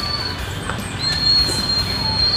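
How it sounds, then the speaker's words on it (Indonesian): A motorcycle with an odd fault noise: a steady, high-pitched whine rides over a close, continuous low engine rumble that grows slightly louder partway through. "cerita ini motor ini bunyi kayak gini."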